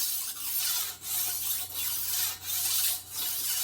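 A machete blade being sharpened on a fruit farm in Costa Rica, heard as four or five long, even rasping strokes with short pauses between them, close and alone.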